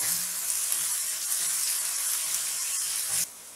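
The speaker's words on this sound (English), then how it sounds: "Let your onion cook about 1 to 2 minutes or until it starts turning brown." Onions frying in a pan for chole masala give a steady, close, bright sizzle that holds evenly for several seconds, then drops abruptly to a quieter hiss.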